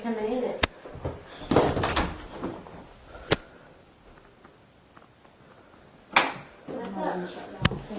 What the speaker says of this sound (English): Did you hear that door rattle?